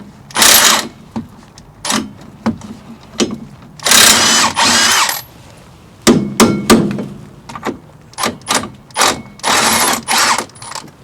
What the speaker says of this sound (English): Right, so I'm going to remove this 13mm bolt that holds at the back there.